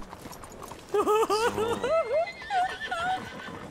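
A horse whinnies loudly in a few rising and falling bursts in the video game Red Dead Redemption 2, with a second shorter neigh following, over a low background murmur.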